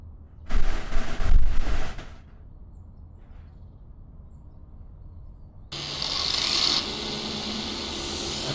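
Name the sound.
grinder removing rust, from a video game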